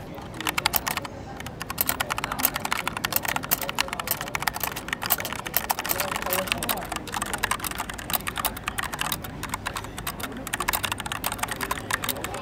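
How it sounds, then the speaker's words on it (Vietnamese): Fast, continuous typing on a SteelSeries M750 mechanical keyboard with aluminum frame, a close stream of sharp clicky keystrokes that keeps a steady rhythm throughout. "Bây giờ thì mình sẽ gõ cho anh em nghe thử cái tiếng ha."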